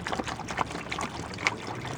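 Water poured into a container of larvae gives a soft, faint, continuous trickling and splashing for a couple of seconds.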